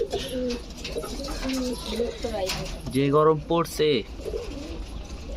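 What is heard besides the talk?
pigeons cooing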